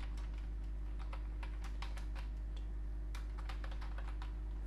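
Someone types a message on a computer keyboard, rapid irregular key clicks in quick bursts with brief pauses, close and clear over a steady low electrical hum.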